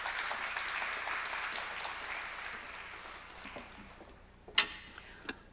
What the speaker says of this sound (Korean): 박수로 환영해 주셔서 감사합니다.